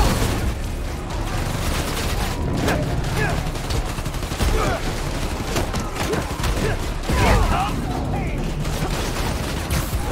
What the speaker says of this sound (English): Escapees are shooting it out!